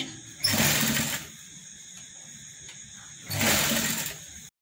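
A sewing machine runs in two short, close bursts of rapid stitching around a floor mat made from a reused dupatta, with a quiet pause between the bursts and no talking.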